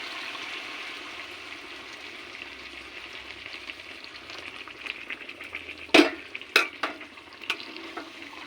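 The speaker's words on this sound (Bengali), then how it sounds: "এখন আমি গরম জলটা ঢেলে দেব।" Hot water poured into a pan of cooked-down chicken curry: a low sizzling simmer at first, then a sudden loud splash and a burst of bubbling and hissing that settle into several sharp spits.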